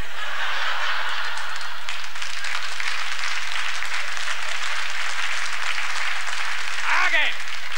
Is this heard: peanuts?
no